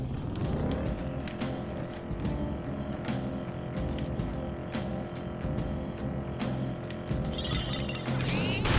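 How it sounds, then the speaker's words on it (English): A continuous low engine drone from the video game Persona 5 Royal hums steadily with a constant pitch, overlaid by a series of short clicks and ticks, ending with a brief burst of noise. "I think it's the engine making that purring noise."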